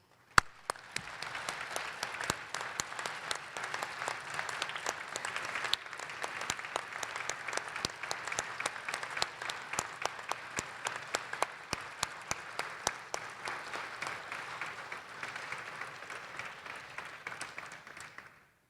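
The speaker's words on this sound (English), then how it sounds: "giving a round of applause for our inductees" An audience at a university athletics hall of fame ceremony gives the inductees sustained applause, a steady wash of many hands with a few sharp nearby claps standing out, continuing for nearly twenty seconds without speech.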